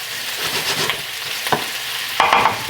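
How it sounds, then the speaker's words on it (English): Onions cooking down in a pan for an old-fashioned Italian spaghetti Sunday dinner, a steady close sizzle with a few scraping stirs and clinks against the pan, no talking. "Just mix in those beautiful onions in there as well too. All right, so we're just gonna cook this down."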